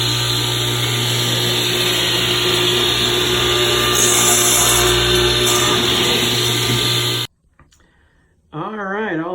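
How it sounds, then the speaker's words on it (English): A power saw makes the final angled cut on custom window trim, a loud steady whine for about seven seconds that stops abruptly, leaving near silence, then a faint voice. "last cut for the angle."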